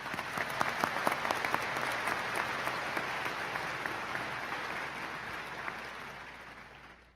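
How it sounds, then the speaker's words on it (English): Steady applause from a commencement audience honoring college officials, a dense even clatter of many hands that holds for several seconds and then slowly thins. "Please recognize them with a round of applause"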